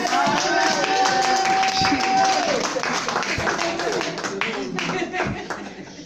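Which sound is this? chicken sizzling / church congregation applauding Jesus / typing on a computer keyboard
church congregation applauding Jesus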